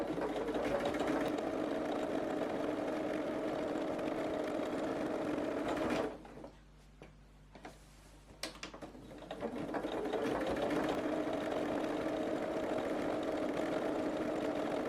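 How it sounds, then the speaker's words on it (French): A sewing machine runs a simple straight stitch on a fabric drawstring shoe bag, humming steadily, stopping briefly midway, then starting up and continuing to the end. "Maintenant, je fais un point droit tout simple."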